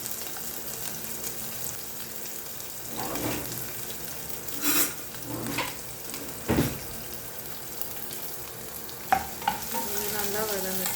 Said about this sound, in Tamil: பொடியாக நறுக்கி வச்சுருந்த வெங்காயத்தை ஆட் பண்ணிக்கலாம்.